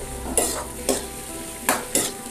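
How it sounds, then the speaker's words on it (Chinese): Pickled cabbage stir-fried in a hot wok with lard, ginger and garlic, a steady close sizzle broken by four sharp scraping stirs of the spatula, roughly evenly spaced, with no talking. "把酸菜先炒香。"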